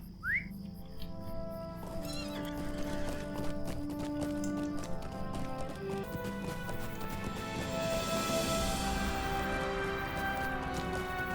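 Horse hooves clip-clop at a steady gallop in Lord of the Rings Online, a continuous rhythmic beat layered over the game's ambient music and effects, fairly close and moderately loud.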